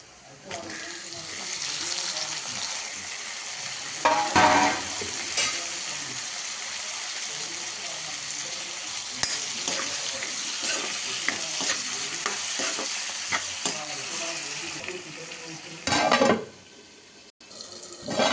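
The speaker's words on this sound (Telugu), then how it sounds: "ఒకసారి మూత తెరిచి టమాటాను కలుపుతా" Tomatoes being stirred into a crab masala in an open pan, a continuous sizzle with repeated scraping stir strokes and a couple of louder bursts, close up and with no talking.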